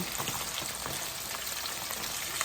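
Chicken frying in oil, a steady bright sizzle with scattered crackles and pops, even and close throughout with no talking.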